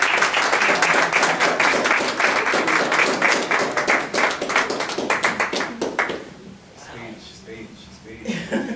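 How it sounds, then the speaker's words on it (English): Applause at a Human Rights Commission meeting: a room of people clap steadily for several seconds with some laughter mixed in, then the clapping fades and voices talk over the quieter room. "if you guys are fine, giving some round of applause"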